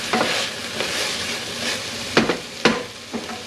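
Soy sauce and brown sugar sauce stirred in a hot pan with onions, a steady sizzle of frying under scraping spoon strokes, a few sharper clacks standing out near the end.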